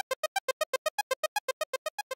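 Sawtooth synthesizer arpeggio in Ableton Live, a steady run of about seventeen short, bright, buzzy notes at an even quick pulse. It is fairly quiet and plays alone.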